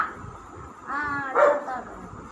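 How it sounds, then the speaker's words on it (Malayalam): A seven-year-old German Shepherd named Bruno barks twice in quick succession, moderately close, over a quiet background. "ജർമ്മൻ ഷെപ്പേർഡാണ് ഗൈസ്, ആണ് ജർമ്മൻ ഷെപ്പേർഡ്."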